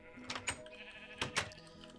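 Sheep in the video game Minecraft bleat twice, clear and close, with short gaps between the calls and no talking over them.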